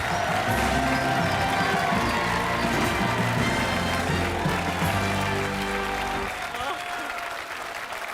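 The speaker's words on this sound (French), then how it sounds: "je vous demande d'applaudir l'extraordinaire, le fantastique Vincent Lagaffe" A TV game show studio audience applauds loudly and steadily for the host, with scattered cheers and crowd noise throughout, tapering off slightly near the end.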